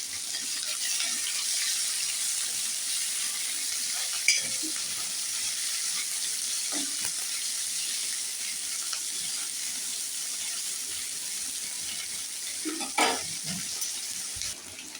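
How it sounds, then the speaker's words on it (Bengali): Onions frying in a pan for palak paneer give a steady, fairly quiet sizzle that runs the whole time, with a few brief louder crackles and clinks near the middle and the end. "এবার এর মধ্যে পেঁয়াজটা দেবো সেই পেঁয়াজগুলো সব দিয়ে দিলাম এবার একটু ভাজা ভাজা হোক"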